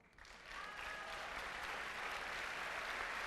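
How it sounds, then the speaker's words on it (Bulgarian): An audience at a Bulgarian film festival breaks into applause that swells within half a second into a steady, full clapping roar from a large crowd, sustained to the end. "Вашите аплодисменти и за невероятната Татяна Лолова"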